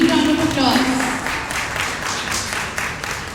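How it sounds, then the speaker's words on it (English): Audience at an international conference clapping, a dense wash of applause that starts under a spoken voice and carries on steadily. "A huge round of applause."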